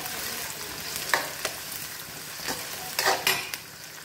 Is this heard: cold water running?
no